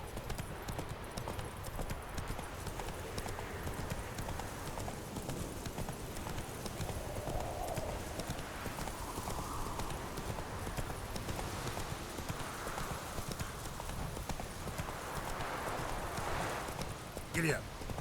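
Horse hooves in The Witcher 3 video game pound in a steady galloping clip-clop that runs the whole time under a constant wash of game background sound. Speech comes in now and then over it.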